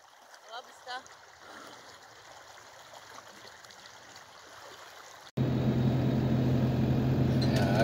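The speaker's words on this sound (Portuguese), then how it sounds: "Água que não acaba mais." Glacier meltwater stream near Perito Moreno, a soft steady rush of flowing water under brief voices that cuts abruptly to a much louder, fuller roar of water close by.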